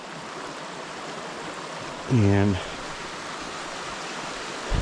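A waterfall beside the arched Poinsett Bridge gives a steady, full rushing roar throughout, and someone briefly speaks a single word over it.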